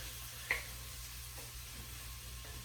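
Beer-cooked sweet onion rings stirred in a pan, a quiet steady sizzle with a single sharp clink of a utensil near the start and soft scraping afterward.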